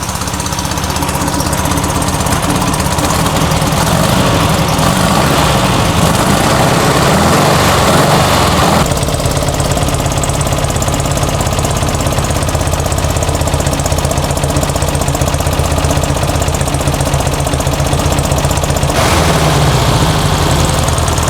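1904cc engine in a 1964 Karmann Ghia race car running with the throttle unconnected, a loud, continuous, uneven clattering rumble close by, with a slight shift in tone midway and near the end, with no voices.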